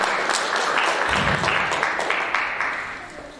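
A church congregation bursts into applause, dense overlapping claps filling the room loudly and steadily before easing off slightly toward the end.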